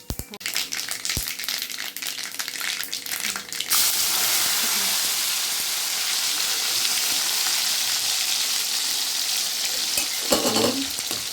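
Tempering spices crackle and sizzle in hot oil for sundakkai paruppu kadayal, a loud continuous frying hiss that jumps up partway through, with a brief stirring clatter near the end.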